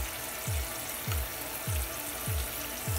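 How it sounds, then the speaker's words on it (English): Sweet potato pieces fry in a pan with a steady, close sizzle, punctuated by soft low thumps about every half second. "we're still frying the sweet potato"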